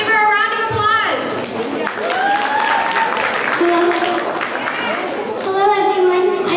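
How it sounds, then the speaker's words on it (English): An audience applauds at a Bollywood-style talent show performance event. The clapping runs under lively crowd chatter, with children's and adults' voices and some melodic vocal sounds over it. "Let's give her a round of applause."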